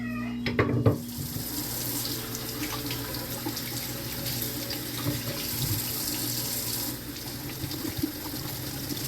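Tap water runs steadily into a sink while a baby's feeding dishes are washed beneath it, with faint clinks and splashes under the constant close stream.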